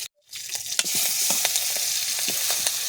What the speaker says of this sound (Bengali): নেড়ে চেড়ে এবার ভেজে রাখা লাউগুলোও দিয়ে দিচ্ছি